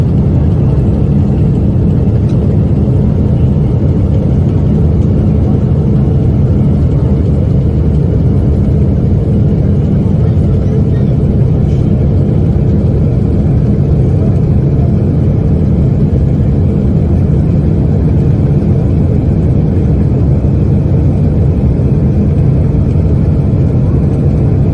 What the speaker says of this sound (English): My God, Sheila, that engine is just done. It's toast